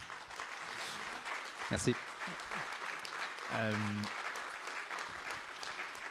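Moderate audience applause at the NatureX nature conference, steady clapping from a seated crowd throughout, with someone speaking briefly over it in the middle.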